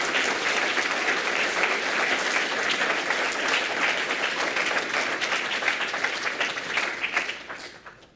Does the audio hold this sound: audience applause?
yes